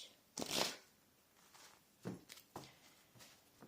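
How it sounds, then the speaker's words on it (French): Cards are drawn from an angel oracle deck during a tarot reading, heard as faint close shuffling and sliding swishes with a few soft paper rustles, and no talking. "une carte de l'archange Michael pour la fin de ce tirage"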